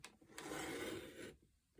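Fabric selvage being trimmed off a paper-pieced quilt block, a single steady rasping cut lasting about a second, close and fairly quiet, with no talking.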